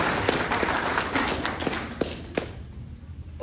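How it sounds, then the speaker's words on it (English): An audience at a high school football awards banquet gives scattered applause, with individual claps standing out over a busy hall; the clapping thins and fades out toward the end. "So let's give him a round of applause too"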